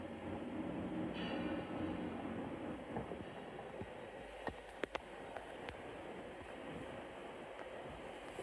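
A British Rail Class 185 diesel passenger train rumbles nearby at Liverpool Lime Street, its engine droning as wheels clatter, with a few sharp metallic clicks and squeals.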